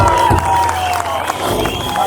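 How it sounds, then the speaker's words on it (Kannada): An audience claps and cheers at a stage show where a young girl sings, a dense, loud and steady wash of applause with no breaks. "ಸೊ ಎಲ್ಲರೂ ತುಂಬ ಪ್ರೀತಿಯಿಂದ ಚಪ್ಪಾಳೆ ಕೊಟ್ಟು ನಮ್ಮನ್ನ ಪ್ರೋತ್ಸಾಹಿಸ್ತಾ ಇದ್ದೀರಾ."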